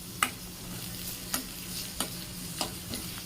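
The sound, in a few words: sautéing onions and curry leaves in spiced oil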